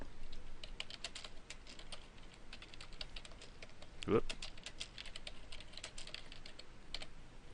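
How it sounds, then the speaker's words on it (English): Quick continuous clicking of keys on a computer keyboard while someone types a running head in caps, close and even, broken once by a short exclaimed word. "I'm just going to type in my running head"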